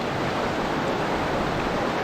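Creek water flows in a steady, dense rush, close and unbroken throughout, with no voices over it.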